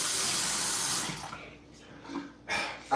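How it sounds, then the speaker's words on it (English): Water runs from a tap in a steady hiss that then shuts off, leaving a quiet room with small splashes, close by and with no speech. "I tried to turn the water on a little bit"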